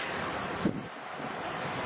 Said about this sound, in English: Waves are so rough today.